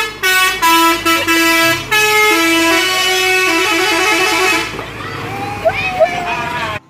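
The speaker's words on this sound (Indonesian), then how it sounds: "Wah, mobil molen teman-teman." A cement mixer truck honks several loud, sustained horn blasts as it drives past on a road, the engine rumble fading afterward with faint voices in the background.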